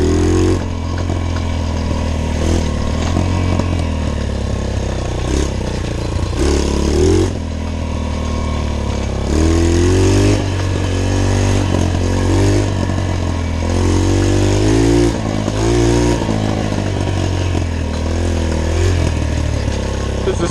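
A cheap $50 pit bike engine revs and bogs repeatedly during a ride through overgrown ground, a loud buzzing motor that rises and falls in pitch throughout.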